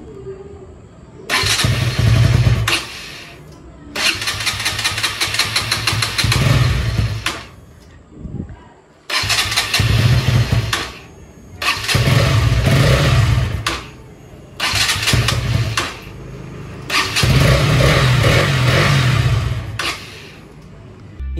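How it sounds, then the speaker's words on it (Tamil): A KTM Duke motorcycle engine starts repeatedly and runs in loud bursts of several seconds each, with short silent gaps between, close to the microphone. "என் பைக்கில் இருக்க இஷ்யூவை வந்து உங்களுக்கு நான் காட்டுறேன்."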